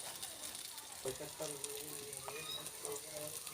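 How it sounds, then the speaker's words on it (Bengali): Raw green banana fritters fry in hot oil, giving a steady close sizzle and crackle as they are turned, with a person speaking over the frying. "একদিকটা উল্টে পাল্টে ভালোভাবে ভেজে নিতে হবে"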